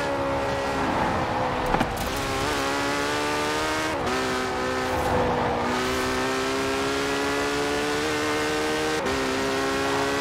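A Porsche 911 Carrera (992) engine in Forza Horizon 4 revs hard and climbs through the gears with steady, loud harmonics, dipping briefly at each shift before rising again.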